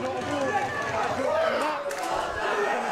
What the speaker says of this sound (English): You can hear the crowd there getting behind Darren Anstey